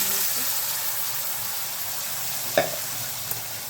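Ground black masala paste of onion, ginger, garlic and spices frying in a hot pan for a soybean curry, a steady broadband sizzle throughout with one brief clink or scrape near the end.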